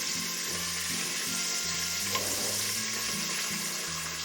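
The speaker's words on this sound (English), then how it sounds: "So just going to brown them on both sides." Pork seasoned with salt, pepper and garlic browning in a hot pan, giving a steady close sizzle and crackle of frying that runs on without a break, with a faint low hum underneath and no talking.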